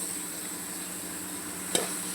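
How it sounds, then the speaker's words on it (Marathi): Soaked soybeans and chopped potato go into a pan of sizzling masala: a steady frying hiss broken by a single sharp clack of the ingredients or utensil, with no talk. "आता यात आपण भिजवलेले सोयाबीन आणि चिरलेला बटाटा घालून घेऊ."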